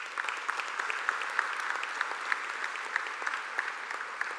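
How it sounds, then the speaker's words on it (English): An audience at a grand conclave event applauds, a dense, steady patter of many hands clapping that holds at an even level for several seconds, heard from somewhat away with no voices over it. "Ladies and gentlemen, please give him another round of applause."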